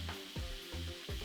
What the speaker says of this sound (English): Deglaze the pan with about a half a cup of cooking wine.